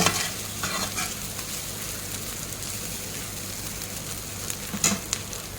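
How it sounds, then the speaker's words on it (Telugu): Masala spices frying and being stirred in a hot pan, a steady close sizzle with occasional scraping stirs and a brief louder clatter near the end, no voices. "మనము ఇప్పుడు మసాలాలు వేద్దాము దీంట్లో. దీన్ని కూడా బాగా ఫ్రై చేసుకోవాలన్నమాట."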